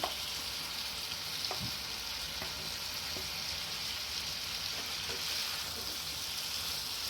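Fried potatoes and pointed gourd hit a bubbling spice masala in a pan, raising a steady, fairly soft sizzle with a few faint clinks and stirs over about seven seconds, with no voice.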